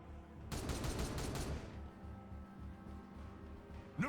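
Gunfire rattles in the Warhammer 40k Regicide video game, a loud, rapid burst of shots lasting about a second, followed by a lingering rumbling echo and low background noise.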